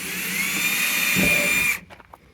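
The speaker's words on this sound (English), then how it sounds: "It drills really easily, it's just plastic." A power drill bores a hole through the plastic tailgate of a Honda Pioneer 1000 side-by-side, whining steadily at high pitch up close for under two seconds before stopping abruptly, followed by light handling noises.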